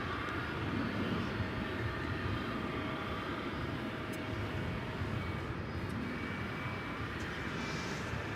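An airplane at DFW Airport at night gives a steady broadband engine roar, distant and constant throughout with no voices.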